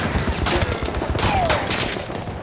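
Rapid machine gun fire rattles through a video game battle, dense overlapping bursts with scattered single shots and a whizzing projectile, loud and close, with no voices.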